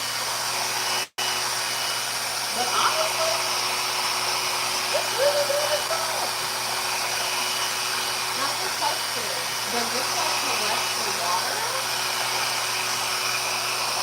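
A RevAir reverse-air hair dryer runs with a steady, broad whooshing hum throughout, and a person chats casually over the constant drone; there is a brief click near the start.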